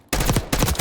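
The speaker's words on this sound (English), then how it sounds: "sniper shooting" Two sharp, loud rifle shots about half a second apart from a sniper rifle in Call of Duty Black Ops 6, close and punchy with brief ringing tails.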